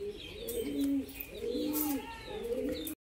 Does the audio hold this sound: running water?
no